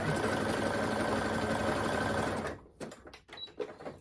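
A sewing machine stitches a sweatshirt side seam in a steady fast whir, then stops after about two and a half seconds, followed by a few soft handling clicks and taps.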